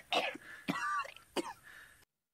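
A man coughs hoarsely in three dry, rasping bursts from a television drama scene, close and loud, with short gaps between them before cutting to silence.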